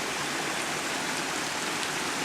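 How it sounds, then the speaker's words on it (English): A woodland stream in a small fern-covered Vermont valley on a trail near St Vincent, flowing as a steady, close wash of water with no other sounds. "Here we have a beautiful, again, tree and river,"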